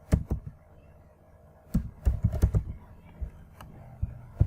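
Keys clatter on a computer keyboard while a virtual machine name is typed, uneven clusters of crisp clicks separated by short pauses, close and clear in a quiet room.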